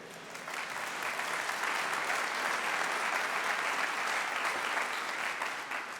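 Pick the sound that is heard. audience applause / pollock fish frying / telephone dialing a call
audience applause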